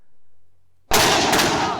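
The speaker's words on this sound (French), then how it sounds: "on peut voir une explosion à peine 1 mètre au-dessus d'un groupe d'individus" A dispersion hand grenade bursts just above a group of people: a sudden sharp, loud blast after near silence, followed by a rough, ringing decay.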